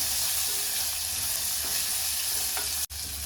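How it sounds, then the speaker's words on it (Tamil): One medium-sized onion sautés in a pan for Kadamba Pongal, a close, steady sizzle of frying throughout, broken by a single brief knock near the end. "ஒரு மீடியம் சைஸ் வெங்காயம் நல்லா வதங்கட்டும்."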